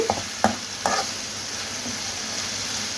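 Prawns frying in oil for a spicy prawn fry, giving a steady close sizzle with a couple of sharp stirring clinks early on and no talking.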